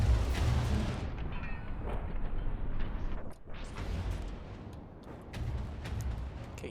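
A C-RAM firing during a video game battle, a sustained roar of rapid fire with explosive booms rolling through it, dropping off briefly midway before the loud barrage resumes.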